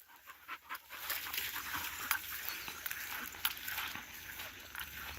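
Dogs pant rapidly and close by, with some excited movement and a few faint whimpers, and a person speaks briefly.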